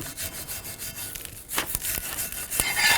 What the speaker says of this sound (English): You take a wire brush. Clean this up.